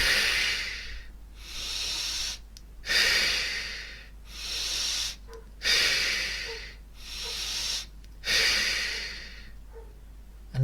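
Slow, deep breaths during a guided meditation, five or six long airy inhale and exhale cycles with short pauses between them, close and clear with no speech.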